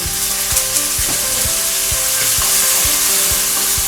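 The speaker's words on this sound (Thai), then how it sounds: "นี่เราก็ใส่น้ำเคี่ยวได้แล้วนะคะ" Instant jjajang sauce with added water bubbles and sizzles in a pan, loud and close, with regular knocking thumps roughly every half second over the steady hiss.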